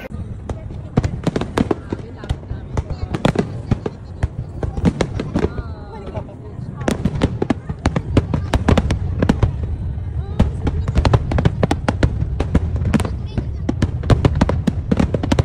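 Fireworks bursting at the Yokohama fireworks show, around 20,000 shells launched in 25 minutes: rapid, dense sharp cracks and pops in steady succession, loud and continuous, with crowd voices and talk underneath.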